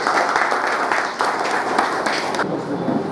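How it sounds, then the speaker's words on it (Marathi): Applause from an audience at a Jalgaon gathering honoring a deputy tehsildar's promotion, a steady wash of clapping lasting about two and a half seconds before thinning abruptly, with no voices over it. "टाळ्या वाजवू।"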